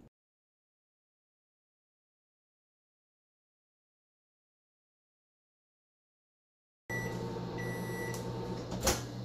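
A microwave oven heats a margherita pizza made on a flour tortilla. The steady hum with a faint rattle starts abruptly after several seconds of silence and runs to the end, with a brief click near the close.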